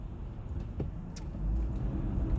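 Car traffic heard from inside a moving vehicle, a steady low rumble of road and engine noise with a few faint clicks and rattles, no talking.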